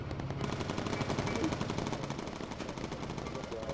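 Machine guns rattle continuously from a bomber's gun turrets in the Bomber Crew video game, a dense steady stream of rapid rounds at close range with game sound effects layered underneath.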